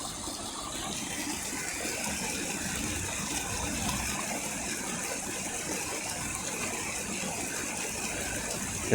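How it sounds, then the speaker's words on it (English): Water gushes steadily and fairly loud as a canal lock on the Sheffield & Tinsley Canal refills, a continuous broad rushing that holds evenly throughout with no talk. "As the water fills the lock back up to usable level."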